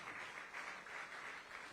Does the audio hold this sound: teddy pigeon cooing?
no